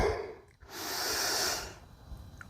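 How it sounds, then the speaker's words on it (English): Deep breathing during a yoga stretch: a short intake, then a long, airy exhale heard up close, followed by quieter breath sounds and faint rustling. "Take a few rounds of breath here."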